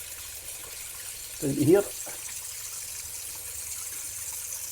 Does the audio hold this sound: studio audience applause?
no